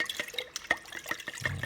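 Water concentrate falls from a dropper in a quick run of separate, close drips and splashes, each drop a crisp plink, with no one speaking.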